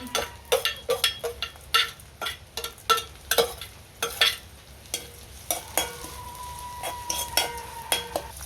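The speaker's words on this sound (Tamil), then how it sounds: "கொஞ்சம் எண்ணெய் விட்டா செத்தல் மிளகாய் வெங்காயம் போடுறோம்" Dried red chillies and onion sizzle in hot oil in a home kitchen, with a steady fry under repeated loud stirring scrapes and clinks of a utensil against the pan, close by and with no talking.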